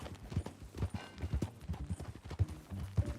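A horse in Red Dead Redemption 2 gallops along, a steady rhythmic clip-clop of hooves close by, alone without any talking.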